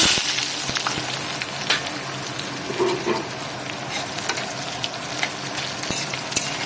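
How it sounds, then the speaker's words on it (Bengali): Onions fry in mustard oil in a kadai with a dense, steady crackling sizzle close by, broken now and then by soft stirring scrapes; no one speaks. "এটা সরষে তেল দিয়েছি কড়াতে পেঁয়াজ দিয়ে দিয়েছি"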